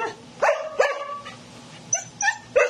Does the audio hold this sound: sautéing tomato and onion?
no